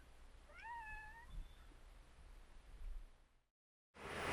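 A cat gives one rising, drawn-out meow close by in a quiet RV at night, followed by faint background hush, a brief silence and then a burst of noise.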